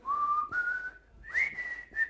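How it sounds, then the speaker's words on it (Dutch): A whistle sounding in a few sustained tones with slightly rising pitch, close and clear, with brief breaks between notes and no talk. "Dus dan hoor je de fluitje ook."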